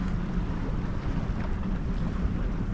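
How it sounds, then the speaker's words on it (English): A boat engine drones at night as a vessel leaves Newport docks, a low steady rumble heard from the shore under gusty wind noise and sea sounds. "there's a boat going out, leaving Newport docks."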